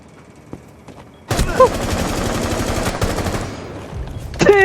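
In Rainbow Six Siege, gunfire erupts suddenly as a loud sustained burst of shots that continues to the end, after a quiet start with faint game sounds.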